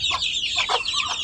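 Close, steady clucking from native desi hens kept on a rooftop garden, a run of short, busy calls tumbling one after another, alone without any voices.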